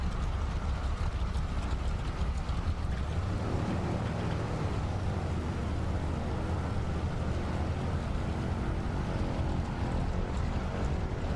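A small plane landing in Microsoft Flight Simulator during a short-takeoff-and-landing competition gives a steady, loud roar of engine and rushing air that holds unbroken throughout, with no voices.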